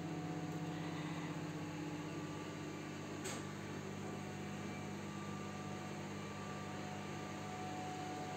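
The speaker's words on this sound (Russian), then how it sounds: "Микроволновка гудит, еще и вот это дело." A kitchen microwave oven hums with a steady, low, continuous drone and a faint background hiss, unbroken throughout and with no talk.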